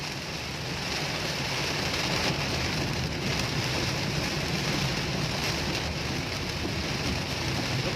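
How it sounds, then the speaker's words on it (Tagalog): Heavy rain pours down steadily in Cagayan de Oro City, a dense, continuous hiss of drops drumming on surfaces that stays loud and even throughout with no voices. "Grabe ulan ah."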